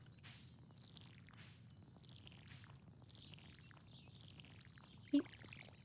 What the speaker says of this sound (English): she's very into the watering can noise, and I would have to agree with her. It's soothing.